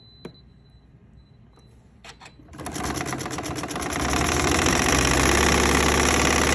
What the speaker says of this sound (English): Now we'll do a couple back stitches.